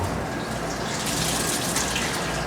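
Cold tap water runs steadily into a beer keg being rinsed during cleaning, a constant full gushing splash with no pauses and no voices.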